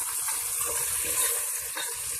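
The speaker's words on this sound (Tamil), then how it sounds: "பச்சை மிளகா கொஞ்சம் நேரம் வதங்கட்டும்" Green chillies and curry leaves sauté with onion and tomato in a pan for a Tamil plain biryani, giving a steady, close sizzle and hiss with no talking.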